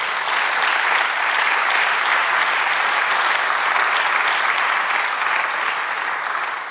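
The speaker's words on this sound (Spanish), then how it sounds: "Denle un aplauso al Señor." Sustained applause from a large church congregation during a sermon, a thick, even wash of clapping that holds steady for several seconds before easing slightly.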